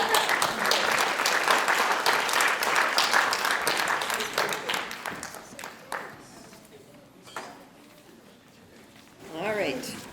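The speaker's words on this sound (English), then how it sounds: "I mean, let's clap." A crowd applauds loudly for several seconds at a middle school after-school theater performance, then the clapping thins out and fades, leaving scattered claps and a brief voice near the end.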